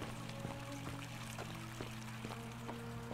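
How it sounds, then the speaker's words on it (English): A video game fountain producing fresh water in a hidden city, a soft, steady pouring and splashing flow with a faint tonal hum beneath it, continuous and fairly quiet throughout. "Fountain producing fresh water"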